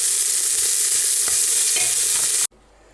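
Spring onions and garlic sizzling in a pot over a campfire outdoors, a loud steady frying hiss with a few stirring scrapes, cutting off abruptly near the end.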